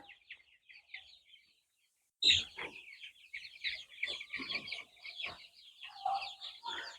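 Several 17-day-old Sonali chickens cluck and chatter close by on a poultry farm, a few soft calls first, then a louder burst of overlapping clucks that keeps going.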